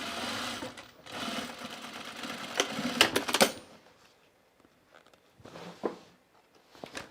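Sewing machine stitching pants: bursts of rapid mechanical needle clatter, close and fairly loud, stopping and restarting with quiet pauses between runs.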